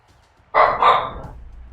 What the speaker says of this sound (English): My dog is one of those dogs that barks at the television.